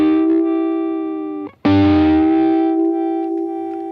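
A Stratocaster electric guitar rings out with sustained notes whose tone shifts as the tone control sweeps, a brief gap, then a bright new chord blooming and gradually darkening, loud and close with no talk.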